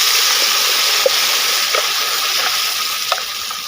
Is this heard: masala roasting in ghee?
yes